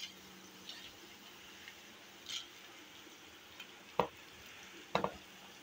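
Dry red chillies hiss faintly in a pan of hot oil as they are stirred. A low sizzle runs under a few sharp clicks and scrapes from the utensil, which land at irregular moments.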